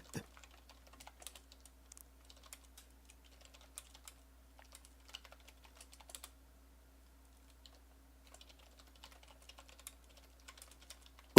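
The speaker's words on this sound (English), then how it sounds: "Was that me or you typing it out?" Keys clatter on a computer keyboard in quick irregular bursts, close and crisp, with brief pauses between runs of typing over a faint steady hum.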